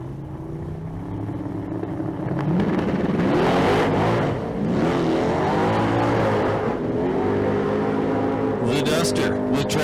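A Plymouth Duster drag car launches at the Street Car Super Nationals in Las Vegas, its engine roaring loud and steady with rising, falling pitch sweeps as it struggles for traction, while an announcer talks over the noise.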